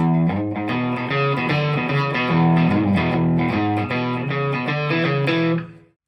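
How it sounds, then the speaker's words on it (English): A gritty, slightly overdriven electric guitar plays a steady shuffling Chicago blues riff with sustained chords, continuous and loud, then fading out at the end. "Or a Chicago blues might sound like this."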